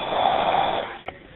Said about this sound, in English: The next day, 5 minutes of snoring until a supervisor got involved.